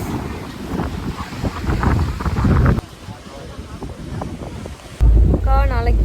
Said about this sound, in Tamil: செம்ம காற்று எங்கள் பீச்சில்.